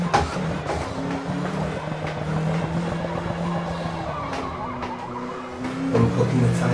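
A 1984 Nissan #20 Bluebird Super Silhouette race car on the Nürburgring in Forza Motorsport, its engine droning loudly as hot race tyres squeal and skid in long continuous stretches, close and strong throughout.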